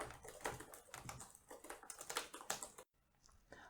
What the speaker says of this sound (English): then you begin to type out the test